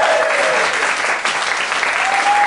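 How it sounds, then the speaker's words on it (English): A comedy club audience applauds a comedian, steady, dense clapping filling the room throughout without a break. "let's hear it for your last comedian, Mark Fernandez, ladies and gentlemen."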